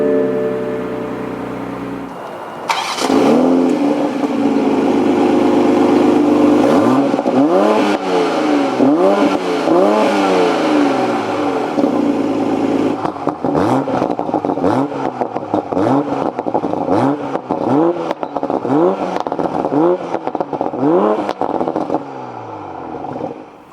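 A 2020 Toyota GR Supra Launch Edition fires up after a short quiet start, then settles into a loud idle broken by a long series of sharp, rising and falling revs. The blips get quicker and more choppy toward the end.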